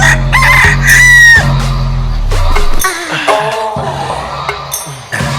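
A loud rooster crows close by, one long drawn-out call, followed by clucking and other fowl sounds in the background.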